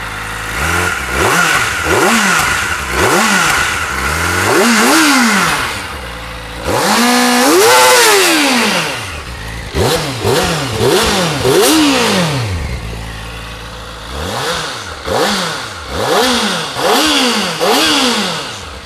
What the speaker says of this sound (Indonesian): Mari kita dengerin suara dari Ninja ZX-4 RR ini dalam kondisi full standar